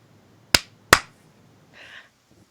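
Two sharp, loud hand claps about half a second apart, made to sync audio before a podcast recording, followed by a brief soft rustle in an otherwise quiet room.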